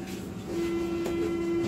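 Interior of a moving U-Bahn subway car, with a steady low rumble of the train running on rails and a sustained whine rising partway through, close and continuous, no talk.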